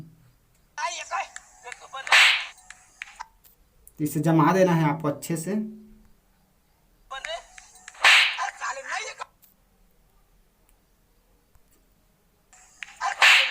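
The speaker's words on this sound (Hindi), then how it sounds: "मैं लिंक डिस्क्रिप्शन दे दूंगा इसका स्लैप साउंड इफेक्ट का" Sharp slap sound effects, the kind added in Kinemaster edits, crack out several times at uneven intervals, loud and close, with a stretch of speech in between.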